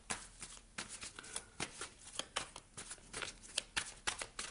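Tarot cards being shuffled in the hands for a reading, a run of crisp riffling bursts and soft slaps in an irregular rhythm, close and fairly quiet, with no one speaking.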